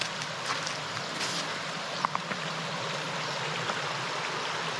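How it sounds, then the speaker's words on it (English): Steady rushing of creek water at a creek crossing on a Vancouver Island bicycle route, a continuous broadband flow with a few faint clicks, alone with no talk. "Just come up to a creek crossing here."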